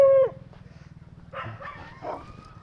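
A dog yelps with a high, drawn-out whine at the start, then gives a few softer yips and whimpers over a low steady hum.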